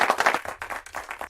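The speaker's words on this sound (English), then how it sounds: "Got a little applause for you there." A few people give a brief round of applause, with sharp, separate claps close to the microphone that quickly trail off.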